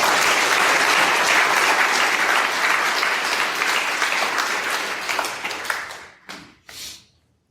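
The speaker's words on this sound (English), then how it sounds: "So I think we just give God a round of applause right now." A crowd at a recovery group meeting in Boca Raton applauds loudly and steadily for several seconds, then the clapping thins out and fades to a few last scattered claps.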